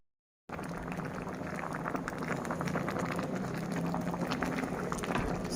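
Water boiling steadily in a pot for bamboo shoot curry with red ant eggs, a dense continuous bubbling hiss that starts abruptly after a brief silence and holds even throughout.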